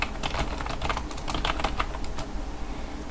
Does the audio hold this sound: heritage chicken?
no